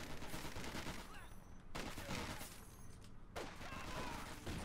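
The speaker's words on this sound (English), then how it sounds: "Volk squads opening fire" Gunfire from Volk squads in Company of Heroes 2 crackles in dense rifle and machine-gun bursts, two sharp volleys separated by brief gaps, loud and close.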